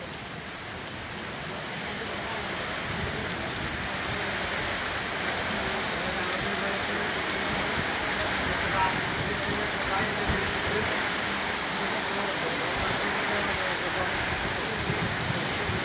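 Rain falls in a steady broadband patter that builds over the first few seconds and then holds evenly, with a faint low rumble of passing vehicles underneath.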